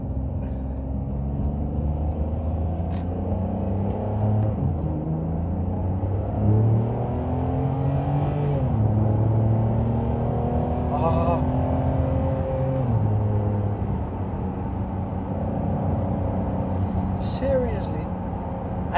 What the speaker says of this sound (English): I'm just upshifting just so you can hear me better